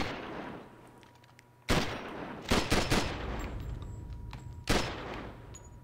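Gunshots in the video game Call of Duty 4 Remastered, a few loud close blasts with a quick burst of several rapid shots in the middle, each followed by a decaying echo over quiet ambience.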